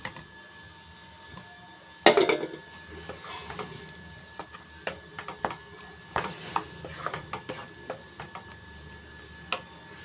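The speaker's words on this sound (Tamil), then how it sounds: "இப்போ வேக வச்ச உருளைக்கிழங்க சேர்த்துக்கலாம்" A sudden clatter of boiled potatoes dropping into a metal pan of potato kurma, followed by scattered clinks and scraping as they are stirred, fairly close.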